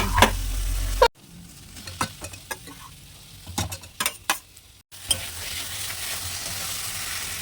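Boiled potatoes stirred gently through a sizzling spice mixture in a pan, with soft sizzle behind irregular scraping and tapping of a spoon against the pan, a few louder knocks, no talking.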